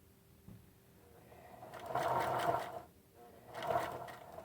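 A domestic sewing machine stitching fabric for a sleeping cap, its motor whirring in two steady runs separated by a short pause, moderately close and fairly quiet.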